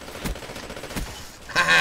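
Assault rifle fire in the Black Ops 3 Gun Game mode: a couple of sharp isolated shots, then a louder, sustained burst of rapid fire at the end, with no one speaking over it.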